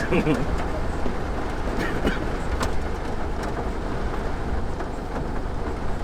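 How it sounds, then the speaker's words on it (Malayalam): A dense, continuous roar of heavy rain, with a low rumble underneath and a few faint clicks, loud and unbroken throughout. "ഫുള്ള് മഴ"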